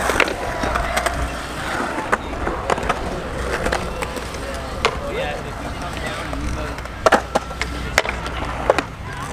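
Roller skates roll and pump over humps in a skate park bowl, making a continuous gritty rolling rumble with scattered sharp clacks and knocks from wheels and frames. A voice can be heard faintly in the background.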